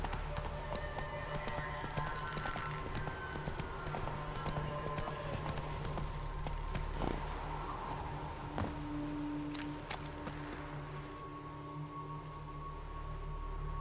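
A horse gallops in a video game with Nilfgaardian soldiers, its hooves beating a fast, continuous clip-clop close by under a constant bed of game music and ambience.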